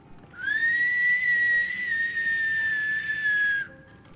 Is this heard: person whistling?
yes